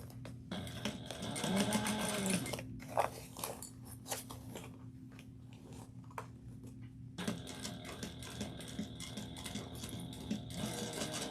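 A sewing machine stitches a crossbody bag, running in fast rhythmic bursts with a brief pause in the middle, close and steady, with a faint low hum beneath.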